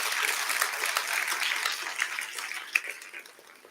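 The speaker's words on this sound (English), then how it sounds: "Let's give them a huge round of applause." At a tech conference, the audience claps for sponsors in a moderate burst that thins and fades over a few seconds, with one sharper clap standing out near the end.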